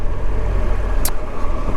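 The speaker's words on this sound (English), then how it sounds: "Oh, there's the traffic." Road traffic passes along a built-up street narrowed from two lanes to one, a steady low engine rumble with a brief hiss of a vehicle going by, fairly close and continuous, with no talk.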